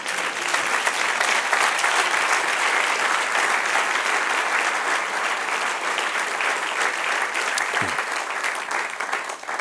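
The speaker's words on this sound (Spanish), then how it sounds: "dale un aplauso al que vive" Sustained applause from a church congregation during a Spanish-language sermon, a dense, steady wash of clapping that fills the whole stretch evenly at moderate loudness with no speech over it.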